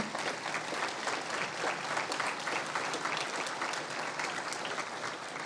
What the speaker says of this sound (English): let us give you a round of applause and recognize them